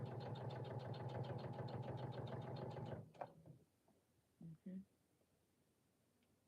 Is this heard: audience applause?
no